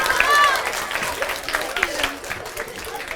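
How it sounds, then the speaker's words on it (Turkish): Students at a girls' high school drama event applaud, a lively burst of clapping with cheering voices mixed in, loudest at the start and then thinning out slightly while remaining busy. "Alkışlıyoruz bravo."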